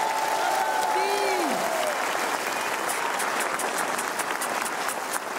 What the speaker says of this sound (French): applaudissements d'un public nombreux?